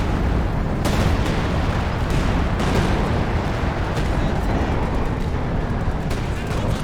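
Artillery barrage from a concentrated fire strike in Company of Heroes 2, a continuous roar of overlapping distant explosions and booms with occasional sharper cracks, loud and unbroken.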